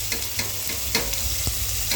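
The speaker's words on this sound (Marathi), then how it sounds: "हे थोडेसे फ्राय करून घ्यायचे आहे, त्याच्यामुळे त्या सोया वडीला छान स्वाद येईल।" Marinated soya mini chunks frying in a pan for khichadi, producing a loud, dense, continuous sizzle with a few faint stirring ticks, heard up close.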